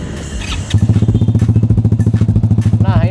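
A Sprint S 180cc scooter fitted with a Cgiro CTRC exhaust and a 45 inlet idles with a deep, loud, steady rhythmic burble up close, preceded by a brief moment of startup noise.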